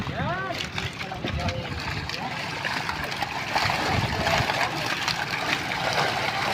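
Crowded tilapia churn and splash in water, producing continuous close splashing and trickling, with people talking over the commotion.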